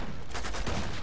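Gunshots in Uncharted 2 multiplayer, a rapid burst of several shots blending into a loud, dense fusillade over a short moment, close and without speech.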